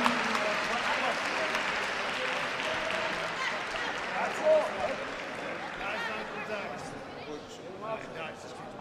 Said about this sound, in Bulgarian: аплодисменти още веднъж за Марчо.